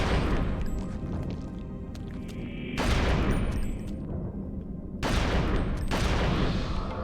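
Rapid bursts of gunfire ring out in a video game, with loud clusters of shots separated by brief quieter gaps and a lingering crashing echo.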